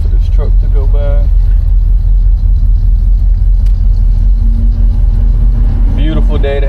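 A truck rumbles past on a road during a drive in a 1964 Cadillac DeVille convertible with the top down, giving a loud, steady low roar throughout while voices talk briefly at the start and end.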